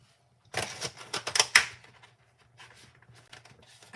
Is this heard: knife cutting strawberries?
yes